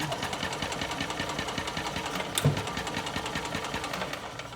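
An old golf cart engine cranking over, a fast rhythmic mechanical chugging that runs steadily for several seconds with one louder bump midway, close and fairly loud with no talking.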